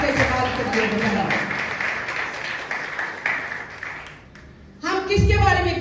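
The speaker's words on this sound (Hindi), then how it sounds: "आई जोरदार तालियां उसके जलाल के लिए बजाएं।" A church congregation applauds in dense sustained clapping for several seconds, then it fades and a voice begins speaking over the room.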